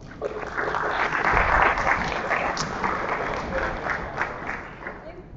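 Audience applause at a DX Summit live event as Jill is welcomed to the stage, a dense, steady wash of clapping lasting several seconds with crowd noise and some voices mixed in.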